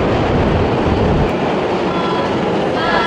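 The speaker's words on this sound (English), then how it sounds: "We're now hopping on the Metro 1" Loud, steady rumble of a Budapest Metro line 1 train in motion, with continuous rail and wheel noise filling the whole stretch.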